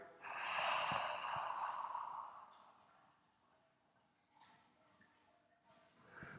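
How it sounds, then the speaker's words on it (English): A long, forceful exhale during a yoga breathing exercise, a close breathy rush lasting a couple of seconds and then fading to quiet room tone. "and then breathing out."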